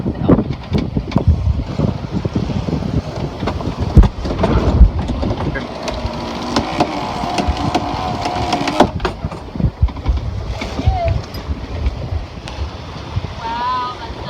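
Sailboat under full sail in the Pacific trade winds, steady wind rushing across the microphone with water sloshing along the hull, while people talk and call out over it.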